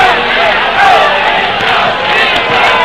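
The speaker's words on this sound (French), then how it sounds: "Ah, c'est du délire, véritable délire dans la foule." A roadside crowd at the 1980 World Pro Road Championship cycling race in Sallanches, France, roaring and shouting loudly and continuously, with an excited commentator speaking over the din.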